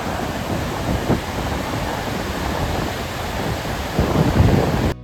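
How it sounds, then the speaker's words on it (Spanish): The roaring water of Gullfoss waterfall in Iceland makes a dense, unbroken, thunderous wash that holds steady throughout, swelling slightly near the end, with no voices. "La cantidad de agua corriente generaba un sonido casi ensordecedor."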